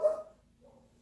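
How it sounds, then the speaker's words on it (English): A single dog bark from indoors, short and moderately loud at the start, followed by a fainter trailing yip. "That's my dog barking."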